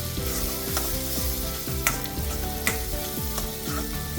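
Sprouted mung bean curry spices, including turmeric, salt, hot chili and Kashmiri chili, sizzling in a pan: a steady close frying hiss with regular scraping strokes of a spoon, and no voices.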